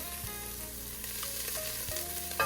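Garlic and aromatics sauté in a hot pan for BBQ baked beans, a steady low sizzle with occasional stirring scrapes running throughout, close and moderately quiet, with no voices.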